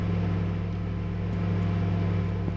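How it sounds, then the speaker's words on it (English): A microwave oven hums loudly and steadily in The Convenience Store horror game, a constant low electrical drone with no pauses, heard alone. "Why is the microwave so loud?"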